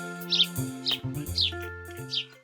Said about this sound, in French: Blanche-Neige était en train de nourrir les oiseaux dans la forêt.